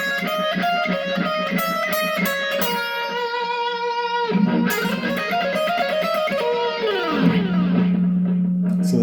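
Electric guitar riff, a loud distorted line of repeated plucked notes that climbs and falls before settling into a long sustained low note at the end, played alone without talk.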